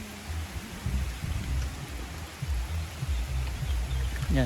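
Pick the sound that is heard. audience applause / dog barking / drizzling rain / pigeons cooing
drizzling rain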